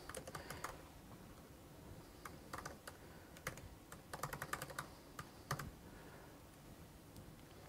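Fast, uneven clicking of computer keyboard keys during live coding at a JavaScript meetup talk, close and clear with short pauses between bursts of typing and no talking.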